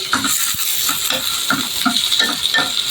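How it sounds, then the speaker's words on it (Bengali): Pointed gourd frying in oil with chili and garlic sizzles up close while a spatula scrapes and stirs in rhythmic strokes, with no talking. "টমেটো বাদ দিয়ে মরিচ আর রসুন আর পটলটা একটু ভেজে নিচ্ছি"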